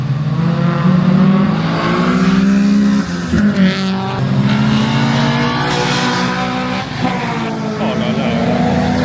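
Japanese cars including a Honda and a Subaru, with a Hyundai among them, approach from a distance with loud, sustained engine roar and revving that builds and shifts as they draw near, while people talk over the noise.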